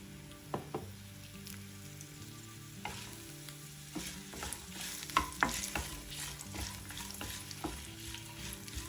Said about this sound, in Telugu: పల్లీలు కొద్దిగా వేగాక దీనిలో ఎండుమిరపకాయల్ని తుంచి వేసుకోండి